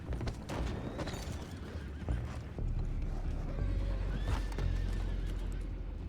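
Horses in Red Dead Redemption 2 whinny and neigh while hooves clip-clop steadily, the sounds layered over a constant low rumble of wind and distant outdoor ambience, with a faint thud partway through.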